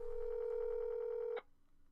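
A single steady telephone tone, such as a ringback or dialing signal on a call back, holds loud and even for over a second, then cuts off sharply with a click, leaving faint low hum behind.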